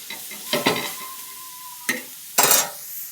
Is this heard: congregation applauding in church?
no